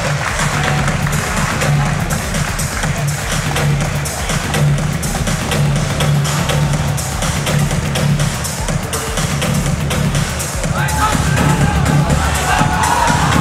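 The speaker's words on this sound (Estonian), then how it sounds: "Ja publik võtab väga hästi Silverit siin vastu." A large arena crowd at the RAJU 16 MMA event cheers and roars steadily for Estonian fighter Silver Tagu before his bout against Reda Hayfa, a constant loud wash of voices with a commentator faintly heard underneath.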